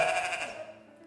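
Sheep bleat in a farm setting: a single close, wavering bleat that fades over about a second, with no talk.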